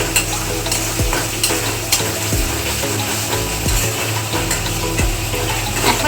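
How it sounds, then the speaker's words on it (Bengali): A spice paste with sugar and salt stir-fried in a pan for an aloo paneer dum, loud constant sizzling with rhythmic scraping strokes of the spatula about once a second, heard up close with no talking. "আবারও মশলাটা ভালো করে কষিয়ে নেব।"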